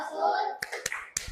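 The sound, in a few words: children clapping hands in tepuk cinta clapping chant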